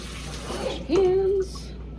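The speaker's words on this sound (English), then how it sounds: "the next step is to wash our rice" Tap water running into a kitchen sink while rice is washed, a steady rush that swells partway through, with a faint hum of a voice over it.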